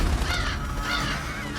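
A crow caws harshly, a single raspy bird call standing alone against a low rumbling background with no talking.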